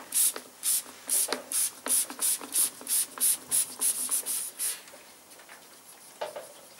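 Brake cleaner sprayed in quick repeated hissing bursts onto Yamaha TDM850 motorcycle parts, about a dozen short rhythmic blasts up close, then fading into quieter dribbles and wiping, no talking.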